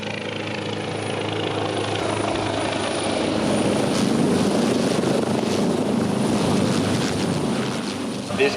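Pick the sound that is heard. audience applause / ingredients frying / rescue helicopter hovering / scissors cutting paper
rescue helicopter hovering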